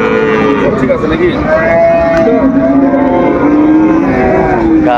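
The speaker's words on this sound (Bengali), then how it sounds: "গাভী বাছুর আমরা দেখছিলাম এখানে।" Dairy cows and young calves at Raniganj cattle market in Dinajpur give loud, close, drawn-out moos that overlap continuously throughout, with faint market bustle behind.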